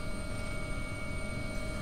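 An AW-139 helicopter in a flight simulator game, heard as a steady, continuous rotor and turbine drone with a constant whine, loud and unbroken throughout, with no talk.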